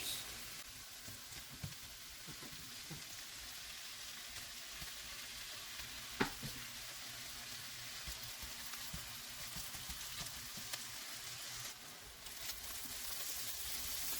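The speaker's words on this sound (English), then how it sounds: "now that the sausage is somewhat fried" Sausages frying in a pan for a creamy shrimp and sausage Alfredo, a continuous soft crackling sizzle throughout with a single sharper clink partway through.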